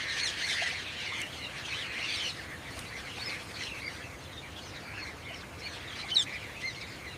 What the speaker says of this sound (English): The distinctive call of the jacana rings out across the marsh